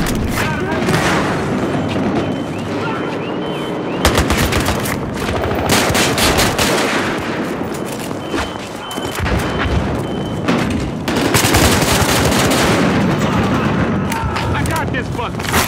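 Automatic and single gunfire from the video game Battlefield Hardline, in dense bursts with booming blasts and shouting voices over continuous battle noise.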